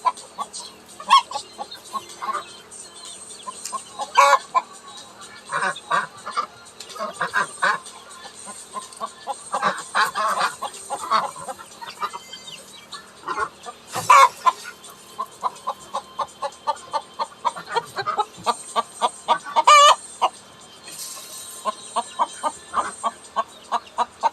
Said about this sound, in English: I got like 3 more chickens to feed in here